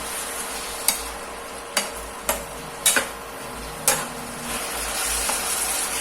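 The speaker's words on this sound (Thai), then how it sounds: "ผัดส่วนผสมทุกอย่างให้มันเข้ากันจ้ะพี่น้อง" Chicken stir-fries with holy basil and sauce in a pan: a steady sizzle is punctuated by about six sharp spatula scrapes and clacks at an irregular pace, close up, with no talking.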